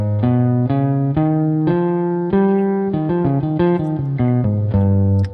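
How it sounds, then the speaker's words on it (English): An altered scale is played note by note on a sustained, synth-like keyboard tone, a quick run of distinct pitches at a steady pace, up close and loud, with no voices. "The altered scale sounds like this."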